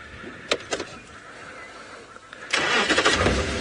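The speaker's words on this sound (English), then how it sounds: "The tractor came past again." A tractor drives past on a dirt safari road at sunrise, its engine rising into a loud broadband rumble in the second half after a few brief knocks over quiet bush ambience.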